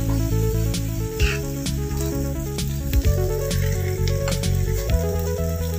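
Kashmiri chilli powder being stirred into a hot lime pickle mixture in a pan, producing a continuous close sizzle and spattering hiss with soft scraping of the spoon, no talking.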